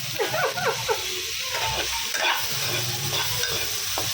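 Tomatoes sizzle and fry in a hot pan while being stirred, a steady crackling hiss with scraping spoon strokes throughout, no voices.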